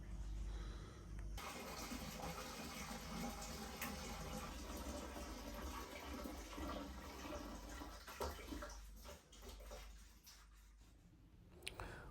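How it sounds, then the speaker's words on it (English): Water poured into an aquarium refugium weir on a 180-gallon reef tank, a steady broadband rush and splash running continuously, fairly loud and close, with no voices. "I've added 5 litres of water into the weir"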